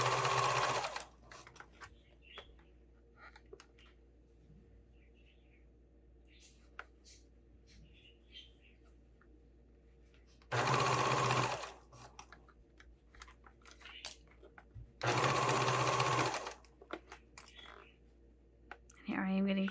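A sewing machine stitches a fabric sling bag in two loud bursts of steady whirring, each about a second long, separated by quieter handling noises and clicks, with a voice talking softly in between.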